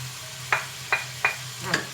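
Tomatoes sizzle gently in a pan, with four soft stirring scrapes spaced evenly across a short stretch.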